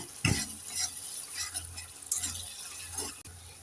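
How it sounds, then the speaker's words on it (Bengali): A spoon stirs cauliflower and spices frying in a pan, scraping strokes over a soft continuous sizzle, with a few louder knocks of the utensil against the pan. "একটু নেড়ে চেড়ে দিয়ে দেব দিয়ে দেব সামান্য জল একটু নেড়ে চেড়ে দিয়ে দেব"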